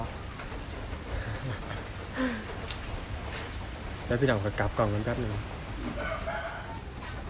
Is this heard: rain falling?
yes